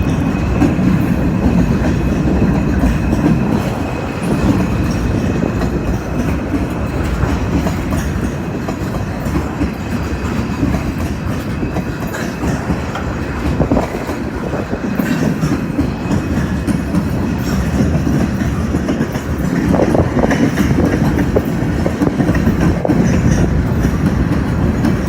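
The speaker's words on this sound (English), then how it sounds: "Hope somebody counted the cars in this train, because this thing is unreal." A long freight train rumbles past close by, a steady heavy roll with clickety-clack from the cars, continuous and loud for the whole stretch with wind in the background.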